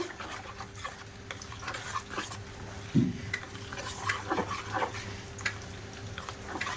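Jackfruit being stirred into a pitha batter in a bowl, with soft wet scraping and occasional spoon clinks against the dish, fairly quiet and close, no talk.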